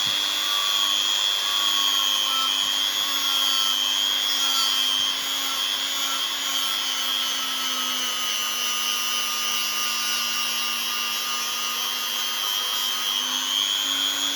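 A rotary tool grinds along a knife blade in one continuous, steady high-pitched whine, close and loud, with a strong tonal hum throughout and no talk.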